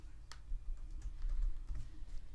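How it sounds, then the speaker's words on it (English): Values are typed on a computer keyboard in quick, irregular clicks and taps, close and fairly quiet, alone with no voice over them. "I'm just going to type them in manually."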